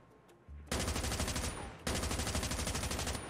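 Rapid automatic gunfire in Call of Duty Mobile, two loud sustained bursts after a short quiet start, with a brief gap between them, no talking.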